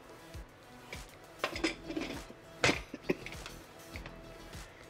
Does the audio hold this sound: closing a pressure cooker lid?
yes